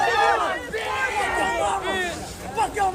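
An agitated crowd shouts and yells during a confrontation with ICE officers near a Target store, overlapping raised voices and cries filling the scene at close range.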